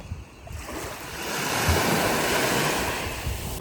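Waves washing ashore at a sandy beach on the Italian island of Ischia, a steady broadband surf wash that swells in the middle, mixed with some wind noise and no talking.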